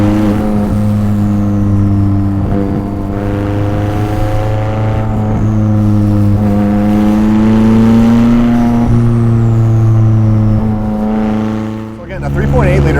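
McLaren 600LT with a 3.8-liter twin-turbo V8, driven on the road: a steady, loud engine drone with rising and falling pitch runs throughout, dipping briefly near the end.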